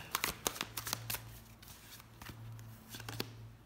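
Tarot cards are laid down and slid over one another during a reading, giving a burst of close, soft papery flicks and taps followed by quieter scattered touches over a low hum.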